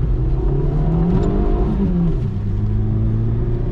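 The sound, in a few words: Citroen ZX 1.4i engine revving at full throttle in second gear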